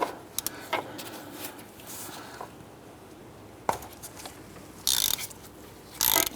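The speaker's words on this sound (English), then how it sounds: "I'm going to use a 19mm socket." Ratchet wrench with a 19mm socket loosening a coolant temperature sensor on a 1993-1997 Ford Ranger, heard as close bursts of quick metallic clicking with a few brief knocks and scrapes in between.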